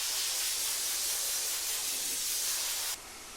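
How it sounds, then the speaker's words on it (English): A compressed air line blasts dust off car panels in a workshop, a steady, loud, close hiss running without a break before it suddenly cuts to a quieter rush. "I blew off as much of the dust as I could with the airline"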